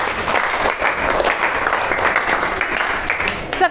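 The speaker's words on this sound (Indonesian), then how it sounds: "Tepuk tangan untuk kelompok 6." Schoolchildren in a classroom applaud a student group, brisk close clapping from many hands that fills the short moment, with a voice briefly audible near the end.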